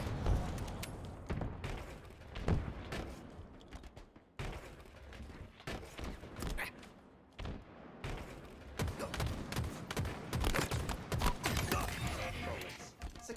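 Rapid gunfire bursts in the video game Halo, sharp irregular shots and clattering mechanical sounds at a moderate, fairly quiet level with no talk.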